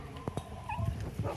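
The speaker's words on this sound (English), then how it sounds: "Oh, look at the 3 puppies." Three stray puppies in a frontline Ukrainian town whimper and let out short high yips close by, with several quick cries over a low background murmur.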